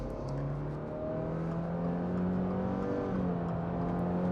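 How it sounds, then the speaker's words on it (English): A 2025 Subaru Forester with a simulated 8-speed CVT in sport mode accelerates at full throttle, heard from inside as a steady, loud engine drone whose pitch climbs and steps through several fake shifts. "you can hear the fake shifts through the 8 speeds"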